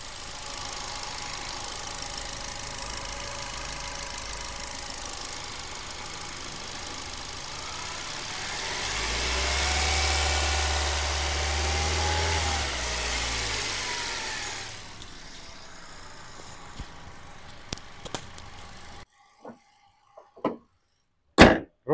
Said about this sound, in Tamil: நெக்ஸ்ட் நம்ம இப்போ வண்டியோட இன்ஜின் நான் உங்களுக்கு எப்படி இருக்குன்றத சவுண்டு